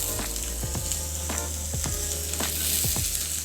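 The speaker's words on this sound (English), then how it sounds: "Just stir fry for about 3 minutes until bright green, slightly tender, and a little bit charred in places." Greens stir-fried in coconut oil in a hot pan, a steady close sizzle with repeated scraping stirs of the utensil throughout.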